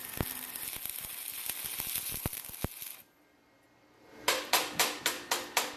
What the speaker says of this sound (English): because this is stick welding, I had to chip off the slag that protects the molten weld metal